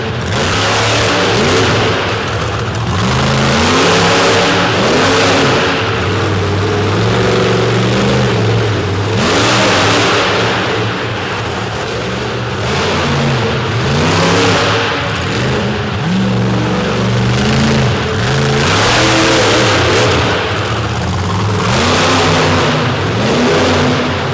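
A big Ford Raptor monster truck from Utah revs its engine hard at a monster truck freestyle show, loud, near and sustained, with repeated surging pitch swells over a constant crowd-and-arena roar.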